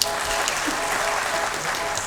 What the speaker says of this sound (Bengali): সবাই মিলে একটু হাততালি দিন।